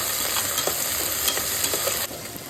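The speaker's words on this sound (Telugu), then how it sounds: "అన్నింటినీ మంచిగా ఆయిల్లో ఫ్రై చేసుకోవాలి." Carrot and potato pieces frying in oil in a pan, a steady close sizzle with light stirring scrapes on top and no voices.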